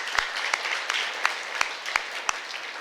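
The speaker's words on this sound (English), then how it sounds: "Give yourselves a round of applause." A round of applause at a swim meet reception, steady crowd clapping with a few sharper individual claps standing out at regular intervals, moderately loud throughout.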